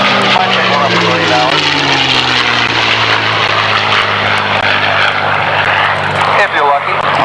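A P-51 Mustang warbird called Big Beautiful Doll flies at an airshow, its piston engine droning loudly with a gradually shifting pitch as it pulls over the top. An announcer talks over the roar.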